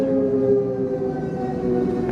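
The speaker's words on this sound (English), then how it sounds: "That would explain the siren." Steady wailing air raid siren sounding inside an old underground shelter, sustained and echoing with layered tones throughout, no voices.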